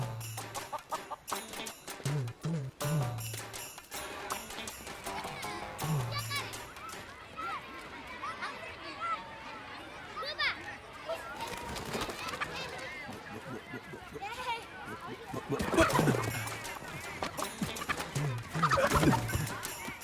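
Chickens cluck in short, scattered bursts amid a busy village household scene, with people talking and calling out between and over the birds.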